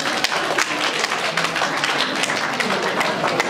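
Audience applause at an academy's first anniversary certificate ceremony, a steady wash of many hands clapping that fills the room without pause, with some voices mixed in.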